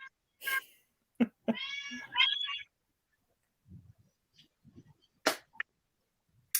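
A house cat gives a couple of drawn-out, wavering meows, loud and close, separated by short chirps and quiet pauses, with faint low murmurs in between.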